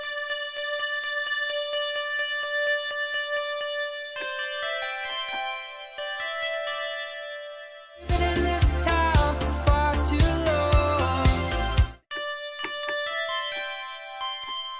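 Synthesizer bell preset with chorus and modulation, bright sustained tones playing phrases, with a denser, fuller chord burst in the middle before the clear bell notes return, all alone and fairly loud.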